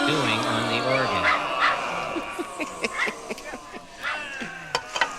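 Barking yips and whimpering dog-like cries mixed with organ tones, frequent sharp bursts over a sustained musical backing with some voice present; the animal sounds may be imitated by a performer.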